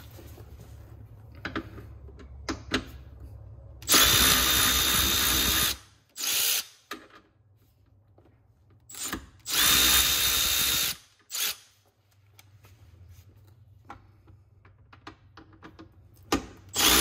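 A power tool backs out 10 mm bolts while a factory tow hitch goes onto a 2013-2021 Range Rover L405: two loud, close, sustained buzzing runs of a few seconds each, separated by short bursts, clicks and quiet handling noise.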